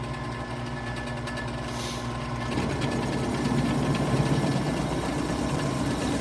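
A drill cutting down a bowling ball through its epoxy shell gives a steady, loud mechanical whine and hum that thickens partway through as the bit bites in, continuous and close with no talk.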